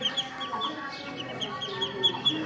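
A mother duck with three newly hatched ducklings, giving repeated high, thin peeping chirps at close range over a low, steady background.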